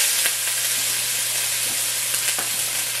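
Garlic frying in sesame oil at the start of a pho, giving a steady, close, dense sizzle and hiss throughout with a few brief crackles and stirring sounds, no voices.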